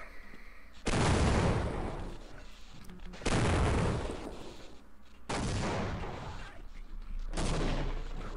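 Four loud, booming grenade explosions from the video game Half-Life, each a broadband blast with a long rumbling decay, spaced roughly two seconds apart over a steady background hum.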